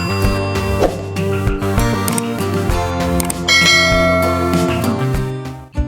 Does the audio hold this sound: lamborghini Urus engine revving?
no